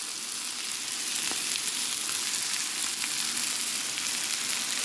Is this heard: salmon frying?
yes